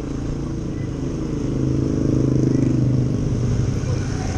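A motorcycle engine rumbles as it is loaded onto a ship at the port of Aroroy, a steady low idle that swells louder midway, close by, with a voice in the background.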